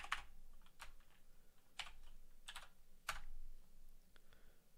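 A computer keyboard is typed on during an Excel spreadsheet tutorial, giving quiet, irregular clusters of close keystroke clicks with short pauses between them.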